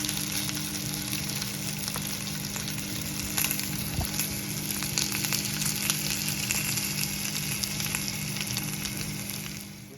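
Bacon sizzling in a frying pan on a gas hob, a dense, steady crackle and hiss that runs the whole time at close range with small pops scattered throughout and no voices over it.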